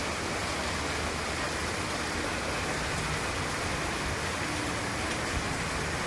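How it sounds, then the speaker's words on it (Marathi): Light rain falling outdoors after a heavier shower, heard as a dense, even hiss of drops with no distinct individual patters, steady and unbroken for the whole stretch. "एक थेंब थेंब पडते"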